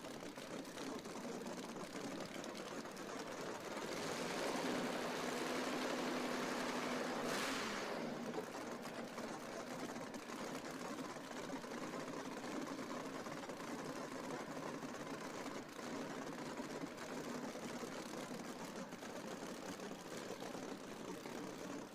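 A pro drag racing car from Chesterfield, Virginia idles at the PDRA East Coast Nationals eliminations, a steady rumbling drone that swells briefly louder partway through before settling back, heard from a distance.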